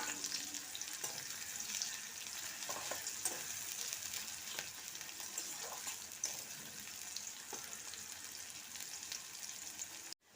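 Thinly sliced onion and garlic frying in oil left from frying fish, a soft, steady sizzle with occasional stirring taps, fairly faint and uninterrupted until it cuts off at the end.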